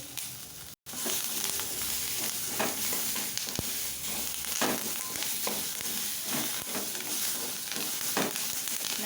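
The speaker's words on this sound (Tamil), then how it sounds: "சீரகம் 1 டீஸ்பூன் போட்டு நல்லா வதக்கிக்கலாம்." Cumin seeds, curry leaves and coriander leaves fry in a pan with a continuous close sizzle, broken by a brief dropout near the start and recurring crackles and stirring scrapes.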